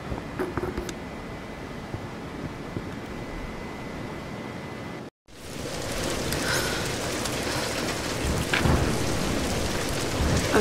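Heavy rain and a rumbling thunderstorm in the video game Tomb Raider: Definitive Edition, a dense hiss of downpour that cuts out briefly, then returns louder with deep thunder rolls underneath.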